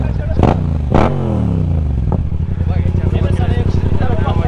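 A motorcycle engine revs hard twice in quick succession, then settles into a loud, rough idle close by, with people talking over it.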